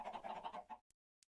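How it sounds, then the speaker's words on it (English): Chickens in a modded Minecraft Skyblock game cluck in a steady run of short calls that stops abruptly, followed by two faint, brief clicks. "we'll just put down a bunch of chickens down here"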